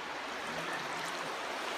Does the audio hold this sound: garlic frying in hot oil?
no